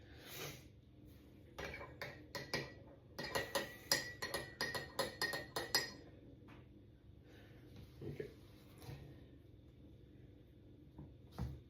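Hot spoon scooping ice cream onto an apple pie in a dish, a burst of quick metallic taps and scrapes against the dish, then sparser clinks amid quiet room sound.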